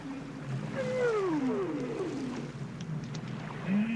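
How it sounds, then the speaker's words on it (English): Underwater whale calls echoing through a deep ocean canyon: long sweeping, gliding tones rise and fall in overlapping phrases over a steady low sea rumble, with no talking. "listening to the calls of the whales reverberating through a"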